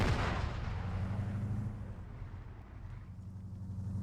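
Grenade blast in Arma 3: a heavy boom at the start that rolls out into a long, fading low rumble, fairly distant and muffled, with no talking over it.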